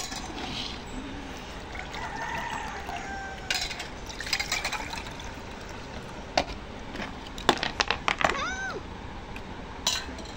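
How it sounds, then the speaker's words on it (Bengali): Liquid is poured and stirred while homemade sherbet is made on a hot day, a steady wet splashing close by with a few sharp clinks, and a cat meows briefly near the end. "এই জন্য একটু শরবত বানিয়ে নিলাম।"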